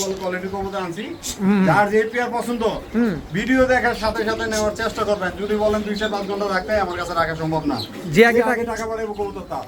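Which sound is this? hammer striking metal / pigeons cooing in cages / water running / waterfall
pigeons cooing in cages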